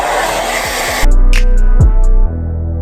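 Hair dryer blowing on a wig, a loud close steady roar with a brief louder surge partway through as the airflow shifts.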